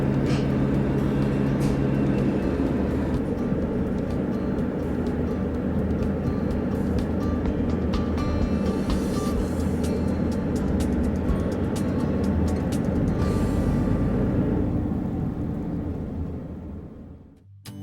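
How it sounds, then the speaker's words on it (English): Twin 600-horsepower engines on a barge throttle back as it glides in beside a fish pen, a loud, steady, close engine drone with broad rushing noise that holds throughout, then fades away at the end with no talking. "Then Graham pulls the leaders back to slow the 2 600 horsepower engines as the barge glides in next to the pen."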